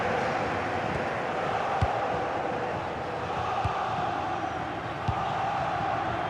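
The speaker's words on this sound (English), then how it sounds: "The crowd have really got behind them today." Steady stadium crowd roar from a simulated Athletic Bilbao versus Sporting CP Champions League football match, a dense continuous wash of cheering with a few faint thuds, loud and unbroken throughout.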